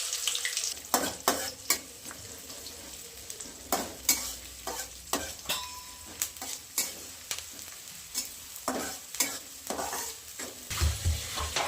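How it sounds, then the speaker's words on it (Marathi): Onion frying in a pan with mustard seeds and cumin, a close sizzle broken by repeated rhythmic scraping stirs of a spoon against the pan. "थोडीशी मोहरी टाकूया आहे थोडंसं जिरं टाकूया आता कमी त्यात हा कांदा टाकूया त्याच्यात"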